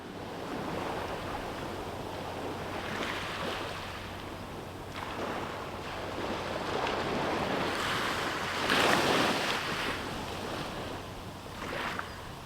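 Light ocean surf rolling onto a Santa Barbara beach in the early morning, a continuous soft wash of waves swelling and receding, with some wind noise and no voices.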